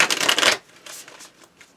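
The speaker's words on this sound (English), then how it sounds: "This deck is kind of hard to shuffle because it's thick ass cardstock and tiny little cards." A thick deck of small oracle cards with heavy cardstock is shuffled up close, a quick riffling burst followed by a few softer card taps and slides.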